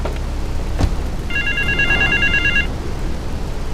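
A payphone in South Belleville Park in Grand Theft Auto 3 rings once, a short high electronic trill that sits over steady loud background noise.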